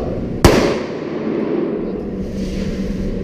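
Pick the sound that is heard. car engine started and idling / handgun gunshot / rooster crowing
handgun gunshot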